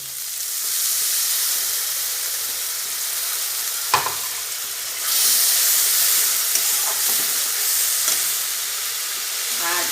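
Ground cumin, coriander, chili and turmeric sautéing with cabbage in a pan, a steady loud sizzle with occasional scraping stirs and a brief clatter midway, the frying growing brighter and hissier in the second half.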